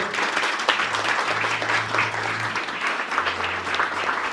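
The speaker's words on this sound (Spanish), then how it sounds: "Dale un aplauso al Señor." A church congregation applauds in steady, dense clapping that fills the room at close range, with a low hum running underneath.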